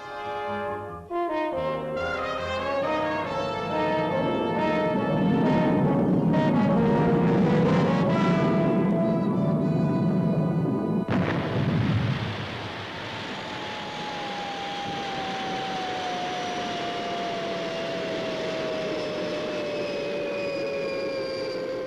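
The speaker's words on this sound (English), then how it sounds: "Retros fired. Approaching landing pad." Retro rockets on the Fireball XL5 spacecraft fire during landing. A loud, sustained roar with tonal whine fades after about eleven seconds into a thinner hiss and a slowly falling whistling tone.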